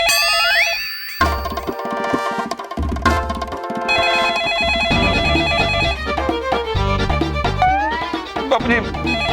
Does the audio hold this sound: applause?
no